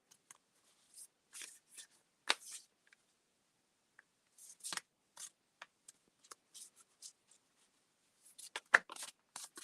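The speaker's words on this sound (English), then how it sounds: "I am shuffling for you now, my dear." Soft, close riffling and flicking of reading cards in scattered bursts, quiet with silent gaps between the shuffles.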